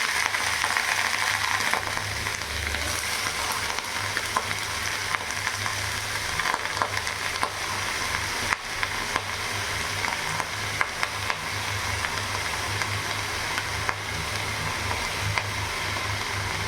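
Shredded cabbage, carrot and beans stir-frying in a pan, a steady, even sizzle with light scraping from stirring, close and continuous with no talking.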